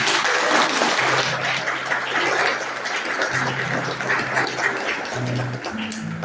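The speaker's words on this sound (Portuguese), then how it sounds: "Pode aplaudir." A church congregation applauds during a sermon, broad continuous clapping that fills the room, with a low sustained tone humming beneath it.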